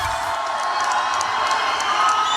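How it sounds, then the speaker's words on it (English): A large political rally crowd in Reno, Nevada cheers and whoops steadily, a dense wall of voices with scattered shouts rising out of it and no break for the whole stretch. "Boy, this is some crowd."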